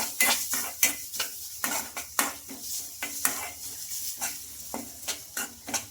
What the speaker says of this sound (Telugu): ఈ క్యారెట్ తురిమి వేసేసుకొని కొంచెం పచ్చివాసన పోయే వరకు అయితే ఫ్రై చేసుకోవాలి నెయ్యిలో